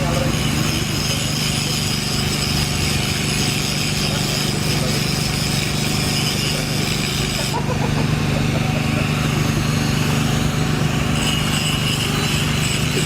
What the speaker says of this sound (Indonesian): Digerinda dulu.